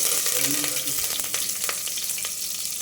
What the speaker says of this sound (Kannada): ಈಗ ಎಣ್ಣೆನ ಕಾಯಕ್ಕಿಟ್ಟಿದ್ದೀನಿ. ಇದಕ್ಕೆ ಸ್ವಲ್ಪ ಸಾಸಿವೆ, ಈರುಳ್ಳಿ ಮತ್ತು ಕರಿಬೇವು